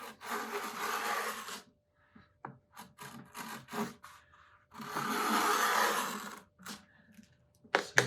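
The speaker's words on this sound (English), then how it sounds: "I'm going to use it to go along these edges and just chamfer those edges off at a bit of an angle." A small hand plane chamfers the edges of a steel string guitar's wood, giving a few long rasping strokes, close and distinct, separated by quiet gaps and light taps.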